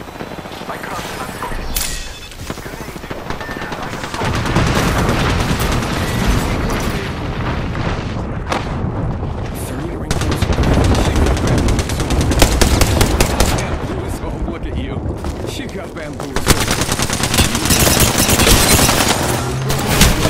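Sustained gunfire and explosions in the battle royale game Apex Legends, loud bursts of automatic fire and booms, with a voice speaking over the fighting.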